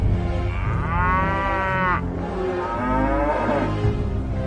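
Oxen hitched to an ox cart moo loudly and close by, giving two long, drawn-out lowing calls one after the other, with no talk over them.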